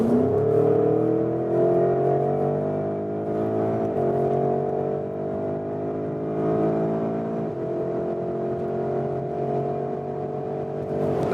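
Porsche Cayenne GTS Coupé 2021 with a 460 hp V8 pulling hard in Sport Plus mode from about 80 km/h, a loud sustained engine roar rising in pitch with brief dips at gear shifts, heard from inside the car with no talking.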